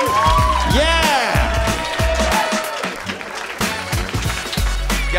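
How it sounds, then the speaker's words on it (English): A stand-up comedy audience applauds and cheers as a comedian takes the stage, with loud, sustained clapping mixed with whoops and music-like tones, and voices talking over the crowd noise. "The great Jeremiah Watkins, keep it going for him."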